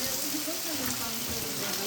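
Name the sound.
rain falling in the mountains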